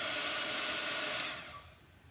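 A heat tool used in place of a hair dryer blows a steady, loud broadband hiss while drying paint on home decor, then fades and drops off toward the end.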